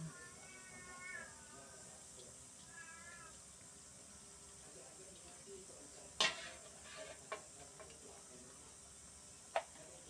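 An egg frying in a pan in a home kitchen, a soft steady sizzle running underneath as a cat meows several times and a couple of sharp clatters sound nearby.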